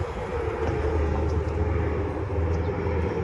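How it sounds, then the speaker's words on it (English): A plane passes over a San Diego neighbourhood on the flight path, a steady broadband engine roar with a low rumble filling the whole moment. "And lots of planes right over the flight path."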